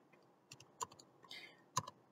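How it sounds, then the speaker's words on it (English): Typing an activation code on a computer keyboard, a few quiet, irregular key clicks and taps close by in an otherwise silent room. "I'm going to type my code in"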